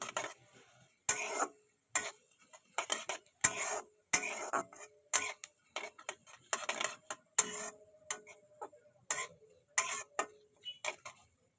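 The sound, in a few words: black mustard seeds and cumin frying in a pan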